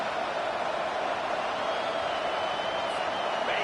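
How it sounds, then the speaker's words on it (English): Home crowd in a Madden football video game roaring steadily and loudly throughout, a dense, continuous wash of cheering with no clear breaks. "how nice is it to have the home crowd going absolutely bananas"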